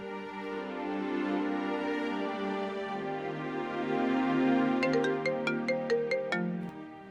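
A phone ringtone plays a sustained synthesized melody, moderately loud and close, ending in a quick run of repeated bright beeps before it cuts off.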